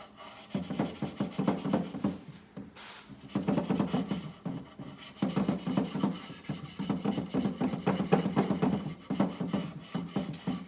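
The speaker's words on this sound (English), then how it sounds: "I'm gonna get the stripping pad and I'm just gonna kind of start very gently rubbing here along the outside." A stripping pad rubbing the finish off a wooden furniture top, steady back-and-forth scrubbing strokes in a repeating rhythm, close and moderately loud with one short pause.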